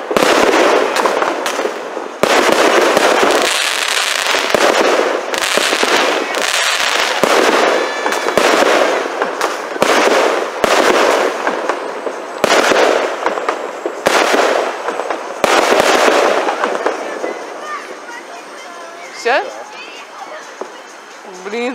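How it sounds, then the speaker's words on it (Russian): New Year fireworks and firecrackers crackle and bang in dense, rapid bursts for most of the stretch, loud and close at first and then thinning out, with people talking underneath. "И там петарды где-то взрываются."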